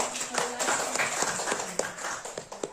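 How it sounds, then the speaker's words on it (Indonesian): Participants at a teachers' training session applaud after a presentation on project-based physical education lessons, a scattered, moderately faint patter of claps with a few sharper hits standing out near the end. "Kita kasih tepuk tangan."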